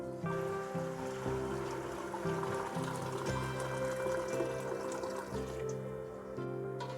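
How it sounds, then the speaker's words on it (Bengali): Water is poured into a pot of prawn biryani, a steady gurgling pour heard at low volume over a faint hum, with no talking. "আমি জলটা দিয়ে দিচ্ছি।"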